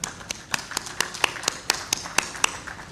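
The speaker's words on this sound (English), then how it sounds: "A round of applause for them," A small burst of audience clapping at a banking summit: a dozen or so sharp, separate claps in an uneven rhythm, fairly close and moderately loud, with no voices.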